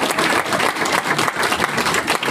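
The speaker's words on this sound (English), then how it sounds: "Big round of applause." A startup competition audience in Austin bursts into loud, dense applause, many hands clapping continuously and close by, with a faint murmur of the crowd underneath.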